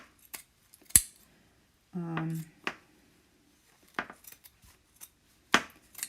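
Sturdy scissors snip through craft material in a handful of separate, sharp cuts spaced unevenly, close and fairly quiet, with a brief hummed voice partway through.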